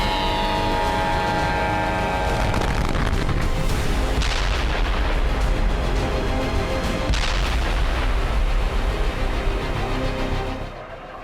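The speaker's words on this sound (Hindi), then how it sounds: "यमन में हुआ मिसाइल हमला।" Missile attack explosions in Yemen, heard as a dense, continuous barrage of heavy booms and rumbling blasts that stays loud throughout and fades slightly at the very end.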